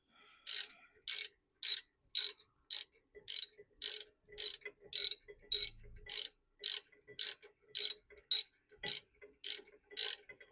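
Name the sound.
ratchet tightening brake caliper bracket bolts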